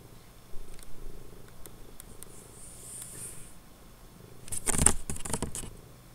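A cat purs close by in a soft, steady low rumble, with a brief louder burst of rustling and movement near the end.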